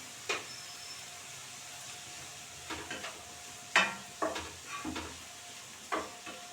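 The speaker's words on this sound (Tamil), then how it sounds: "இப்போ நல்லா வதக்கிட்டு இது கொஞ்சம் நல்லா வேகணும்" Amaranth greens and potato sautéing in a pan, a steady low sizzle with several distinct stirring scrapes and clacks of a spatula at irregular intervals.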